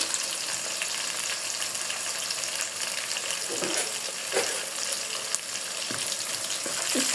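Onion, ginger and spice paste with bay leaf, cinnamon and cardamom frying for beef rezala, a steady close sizzle with occasional soft scrapes and knocks of a stirring spoon throughout.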